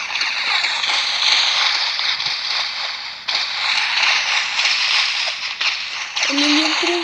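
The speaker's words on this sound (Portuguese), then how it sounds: "O navio tá entrando debaixo d'água" Ship going under the water in a Titanic video game, a steady broadband watery rush with sloshing and splashing plus a few creaks and mechanical clanks. Near and continuous throughout, with a brief tonal game sound at the end.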